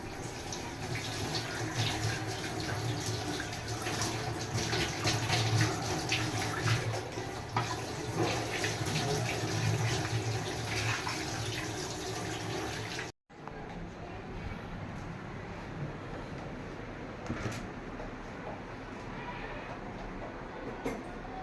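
Milk and curd vessels being washed under a running tap, a steady rush of water with clattering for much of the clip, then a quieter stretch of flowing water after a brief cut.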